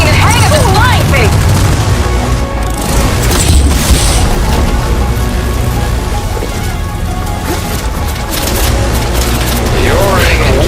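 Loud, continuous combat noise in Horizon Forbidden West while a machine's heatsink is shot: booming impacts, weapon fire and mechanical clatter mixed with music, with no pauses.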